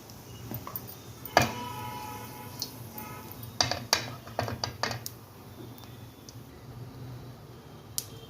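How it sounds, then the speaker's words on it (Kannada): Ajwain (carom) seeds crackle in hot oil while bitter gourd fry is cooked, giving scattered sharp pops and ticks with a couple of louder clinks of pan or utensil against a quiet background. "ಅಜ್ವಾನ್ ಕಾಳು ನೋಡಿ ಚಟ್ಪಟ ಅಂತೈತಿ"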